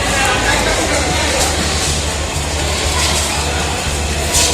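Train arriving at a crowded station platform, a loud continuous rumble with low rhythmic rolling under a babble of crowd voices, people talking throughout.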